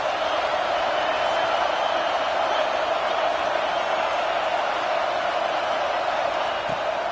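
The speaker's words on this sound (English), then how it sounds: "Big 3rd down as the crowd gets behind this defense." A football stadium crowd roars steadily behind the defense on a big third down in a college game, a dense, continuous wash of cheering with no breaks across the whole stretch.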